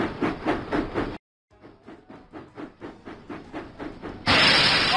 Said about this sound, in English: James puffed proudly into the Sodor Search and Rescue Centre